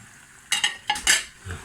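Onions, garlic and tomatoes frying in a pan while a spoon stirs them, giving a quick run of close scraping, clattering strokes over a faint sizzle.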